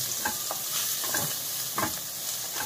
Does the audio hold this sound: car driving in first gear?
no